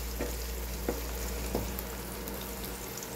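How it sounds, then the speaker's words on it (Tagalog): Sliced onion sizzles as it is sautéed in a pan with zucchini and corned beef, a steady soft frying hiss broken by a few light stirring scrapes, with no talking. "Isunod na rin ang hiniwang sibuyas. Gisahin lang mabuti mga kajuit hanggang sa ito ay maluto."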